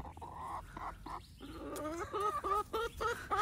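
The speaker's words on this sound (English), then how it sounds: "They don't call them chickens for nothing. They're chickens." Chickens clucking and squawking close by, a few short bursts followed by a run of quick repeated clucks.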